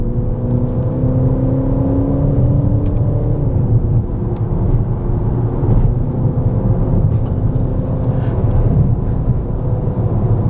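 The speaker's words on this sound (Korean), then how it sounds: "이 상태에서 한번 달려볼게요. 자동으로 변속이 됩니다." Inside a Peugeot 5008 on the move in manual mode with the transmission shifting gears by itself, engine hum rises steadily and drops once around three seconds as a gear changes, over constant road rumble.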